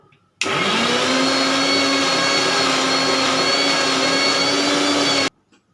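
A mixer grinder whirs loudly as it blends pointed gourd peel into a paste, starting abruptly, holding a steady high-pitched motor roar for about five seconds, then cutting off into near silence.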